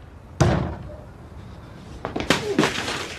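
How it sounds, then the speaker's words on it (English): A door slams shut with one loud, sharp bang indoors, followed a moment later by further knocks and thuds as it settles. "Don't close that door!"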